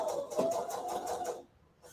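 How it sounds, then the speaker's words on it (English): A sewing machine runs a steady stitching burst along a 1/2 inch seam on a fabric Christmas stocking, close and clear, then stops briefly before starting again. "Start stitching here. I'm only stitching at a 1/2 inch seam allowance."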